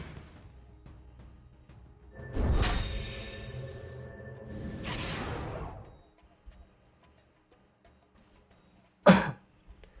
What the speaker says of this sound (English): Suddenly developed like a tickle in my throat and I want to cough.